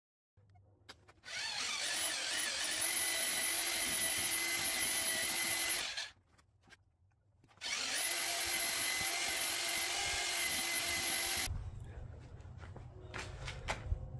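A power drill mixing plaster runs in two long, steady bursts with a short pause between, a loud continuous whir, then a few clatters as it stops.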